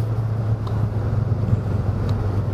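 Volkswagen Golf 7 GTI driving on a road, a steady low engine drone and road rumble held at an even level throughout, with faint wind noise and no talking.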